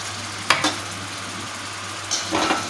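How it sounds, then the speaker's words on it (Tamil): Goat lung frying in a pan, a steady low sizzle with two brief scraping bursts of stirring, one early and one near the end, close and moderately loud with no talk. "நல்லா வதக்குங்க."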